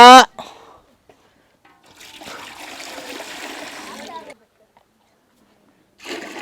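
Water splashes and trickles steadily into a metal pot for a couple of seconds, with brief voices before and after.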